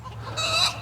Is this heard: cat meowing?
no